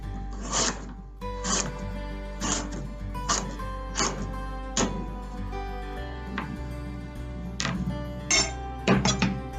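Knife chops garlic slices into smaller pieces on a cutting board for a stir fry, with about a dozen crisp, evenly spaced knocks, close and clear over a steady low hum.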